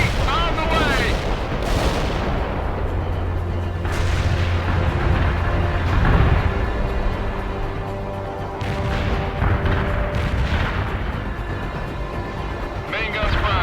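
Artillery fire in the World in Conflict video game, heavy booms and rolling blasts crowding together without a break over a low rumble, loud and dense, with radio-style voices talking throughout.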